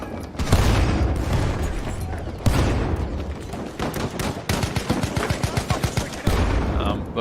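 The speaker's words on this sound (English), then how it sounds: "Oh, they're getting sniped." Gunfire in the video game Frontlines during an 8v8 tournament match, with heavy booming shots and rapid bursts of automatic fire in quick volleys, loud and close, plus faint talk underneath.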